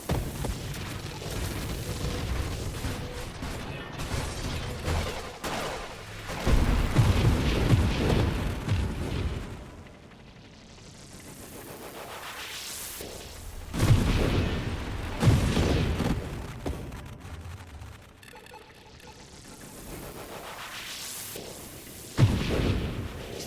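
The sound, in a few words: explosions in a video game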